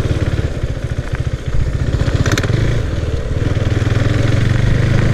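A KTM Duke 390 motorcycle engine heard up close while riding, with a loud, throbbing exhaust beat that rises briefly, then settles into a steady pulse, and no talk.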